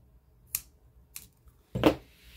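Scissors snip string close to a knot while making resin and glass bangle wind chimes: three quiet, crisp cuts, the last one longer and fuller, in a still room.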